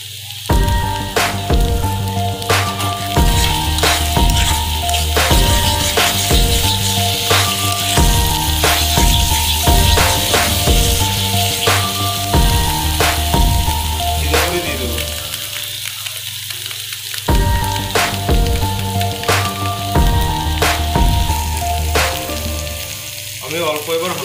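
Ginger, garlic and green chili paste fries with already-fried onions in a pan for chicken biryani, a loud continuous sizzle broken by regular sharp clicks of stirring.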